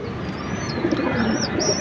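Red checker racing pigeons in a home loft coo steadily at close range, with a few thin chirps over a constant hiss of background noise.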